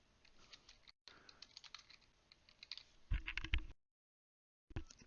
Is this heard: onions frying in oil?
no